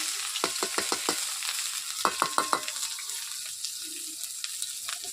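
Fish, chopped onions and slit green chilies frying in oil, a steady close sizzle under two quick bursts of spoon taps against the pan, with no voices.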